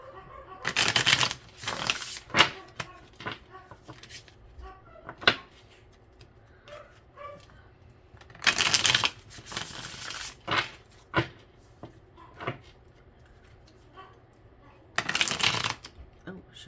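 Tarot cards are shuffled by hand in several quick riffling bursts, close and crisp, separated by quieter stretches with light handling clicks and occasional talk.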